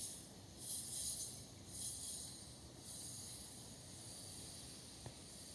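A pressure regulator on a homemade fuel-injector cleaning tool for a Ford Mustang, set to about 40 psi, gives quiet, airy hissing bursts, two or three short puffs, before settling into a faint, steady background hiss.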